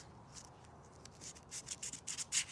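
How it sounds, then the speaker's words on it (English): Sandpaper wrapped around a putty knife rubs along a body seam on a Smyth Ute, making soft, close scratchy strokes in a rhythmic series that grow louder toward the end, with no speech. "you can tuck a putty knife in your sandpaper"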